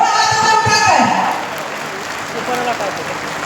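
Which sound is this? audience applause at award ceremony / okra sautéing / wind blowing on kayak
audience applause at award ceremony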